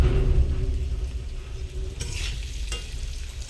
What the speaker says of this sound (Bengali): তারপরে এখানে সয়াবিন ভেজে নিচ্ছি